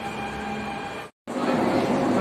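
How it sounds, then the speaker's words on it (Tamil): A Dubai Metro train arrives at the station, a steady broadband rush and hum with a brief cut in the middle, then returning louder and fuller. "ட்ரெயின் வந்துருச்சு."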